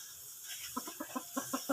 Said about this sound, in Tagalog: this is a broodstag